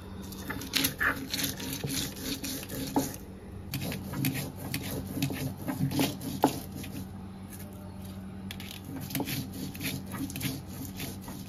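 Black cumin, garlic, green chillies and dried chillies are ground together on a stone, producing steady rhythmic rasping and scraping strokes, close and moderately faint, with no talking.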